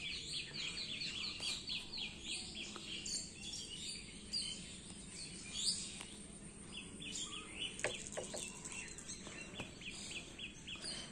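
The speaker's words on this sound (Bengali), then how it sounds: "প্রচুর শালুক পাখি আছে এখানে, গাছপালা আছে বলে প্রচুর শালুক পাখি আছে" Myna birds chatter and chirp from wet rooftops and nearby trees after evening rain, a dense, steady layer of overlapping calls at moderate distance over a faint insect hum.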